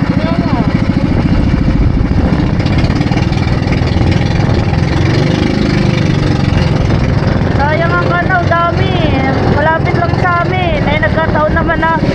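A steady engine idles and chugs loudly throughout, close by, with people talking over it and some higher whistling or calls near the end.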